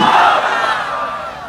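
Crowd at a Bangla religious sermon gathering shouting the takbir, Allahu Akbar, in unison, one loud short collective chant that tapers off.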